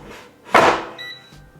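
Gourmia air fryer from Costco, basket pushed in with one loud close sliding thunk and firm click, followed by a short electronic beep and a soft knock, nearby and without talk.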